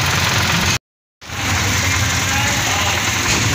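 A gasoline car engine idles steadily just after its ignition coil was replaced to cure a misfire, a continuous close mechanical hum broken once by a brief dropout near the start.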